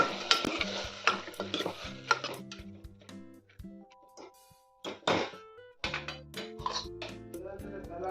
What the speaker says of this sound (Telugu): అందులో తర్వాత అందులో కందిపప్పు, వెల్లుల్లి వేసుకోవాలి.